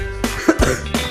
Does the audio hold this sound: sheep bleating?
no